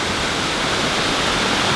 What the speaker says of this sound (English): I was not expecting a gigantic waterfall like this.